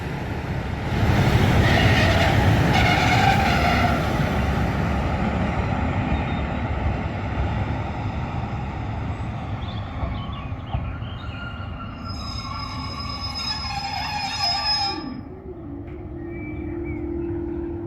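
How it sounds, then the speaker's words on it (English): A train passes a level crossing on the Marston Vale Line with its barriers down, a loud sustained rumble of wheels and engine that gradually fades, ending in high metallic squeals and whines as it slows, with no talking. "and there's the train."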